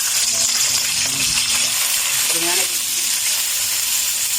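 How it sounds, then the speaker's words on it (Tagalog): Marinated tulingan fish frying in hot oil in a kawali, a loud continuous crackle and sizzle with faint clinks of utensils and a low voice murmuring underneath. "mag-start na tayo sa pagprito"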